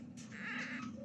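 A white newborn kitten cries once, a thin, close wavering meow lasting about a second against a quiet low hum.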